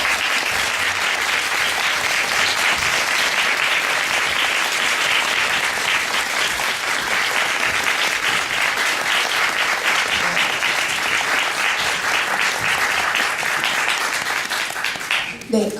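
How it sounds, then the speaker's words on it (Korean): A theater audience at a post-show talk for the play Orphans applauds as guests come onstage. The clapping is loud and continuous, steady for about fifteen seconds before tapering off at the very end. "큰 박수로 맞아주시기 바랍니다."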